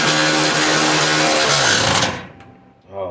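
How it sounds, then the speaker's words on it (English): A loud, rapid pneumatic hammering drives down rivets on a 1996 Ford Ranger, rattling nonstop for about two seconds, then cuts off, followed by a brief quieter moment. "Let's start hammering these things down."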